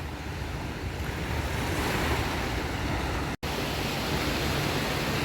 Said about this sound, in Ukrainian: таких хвиль в Дуросі я ще не бачила